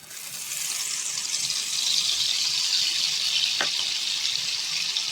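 Beaten egg mixture is poured into hot oil for an egg fry, producing a steady, fairly quiet hiss and sizzle that builds slightly and holds.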